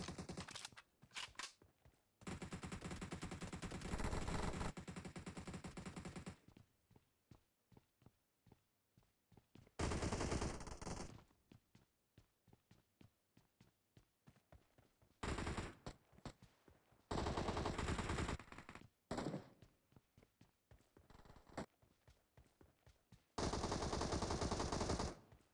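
Bursts of automatic gunfire from BGMI, a 4 vs 4 battle royale mobile game, come in dense sustained volleys separated by short pauses and scattered single shots, loud and close throughout with no talk.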